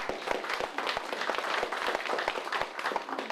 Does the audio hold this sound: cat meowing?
no